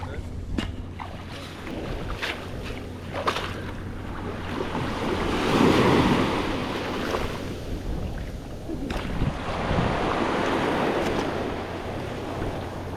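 Ocean surf washes in at a Tampa beach after a hurricane, with waves swelling and receding in slow surges under gusty wind noise on the microphone.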